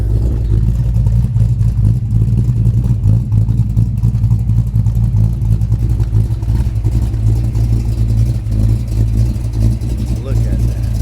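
A modified Ford Mustang SN95 engine runs loud and close with a rough, rumbling, lumpy idle and steady throbbing exhaust, holding continuously without pause.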